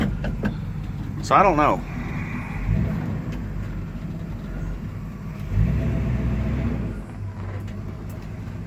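A four-wheel-drive vehicle's engine rumbles low and steady while driving on a homestead, swelling in a couple of places, with a person speaking briefly over it.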